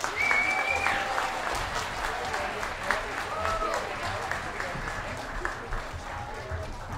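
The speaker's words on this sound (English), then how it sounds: "Let's have another huge round of applause for the Arles Advanced Band." An audience at a band telethon in Fort Nelson gives steady applause for the Arles Advanced Band. The clapping is moderately distant and fills the whole stretch, with a few faint voices and whoops mixed in.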